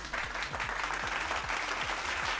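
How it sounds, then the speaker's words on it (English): Applause for an incoming stream raid, an even, continuous patter of clapping at moderate level with a faint repeating low thump running beneath it. "Clap it up for Conscious Beauty."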